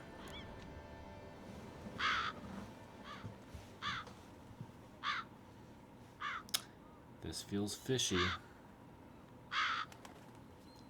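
Several crows caw in bursts inside The Witcher 3, scattered calls at moderate distance with a cluster of quick caws near the end, while a voice speaks briefly over a steady ambient bed.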